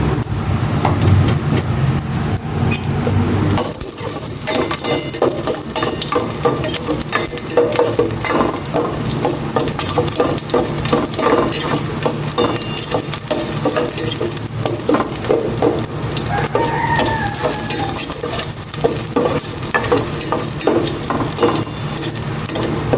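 Garlic sautéing in a hot pan as the base for pork adobo, a steady loud sizzle that swells after a few seconds and continues throughout with stirring scrapes, no voices.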